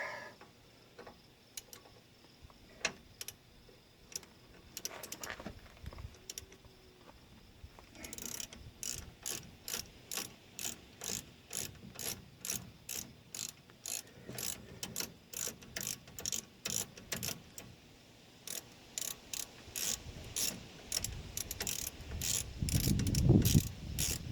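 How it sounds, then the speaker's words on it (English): Repeated ratchet wrench clicks while working on a sticking front brake caliper, starting sparse and turning into a steady, fast rhythmic ratcheting through the second half, close and moderately loud, with a heavier clunk near the end. "I grabbed a wrench here and her ratchet and see what we can get done here"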